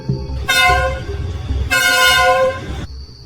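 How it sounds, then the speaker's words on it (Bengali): A train whistle sounds twice at night in two loud, sustained tonal blasts, each lasting about a second, with a short pause between them. "এমন সময় ট্রেনের হুইসেলের শব্দ শুনতে পাই।"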